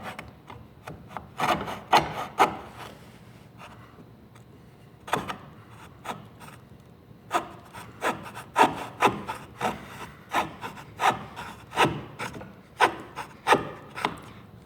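Blade trimming crown molding wood, heard as a series of sharp scraping and rasping strokes, loud and close, arriving in uneven bursts with short pauses between them and no talk.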